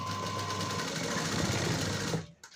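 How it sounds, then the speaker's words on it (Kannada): A sewing machine stitches fabric in a quick continuous whirring run, close and steady, then stops abruptly near the end. "ಹೀಗೆ ಬೇಗ ಸ್ಟಿಚ್ ಮಾಡ್ತಾ ಹೋಗ್ಬೋದು."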